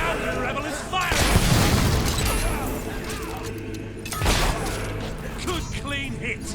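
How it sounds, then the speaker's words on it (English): Rebel gunfire in the video game Fable 3 fires in two loud bursts, each a sharp booming blast followed by a crashing tail. "Now the rebel is firing!"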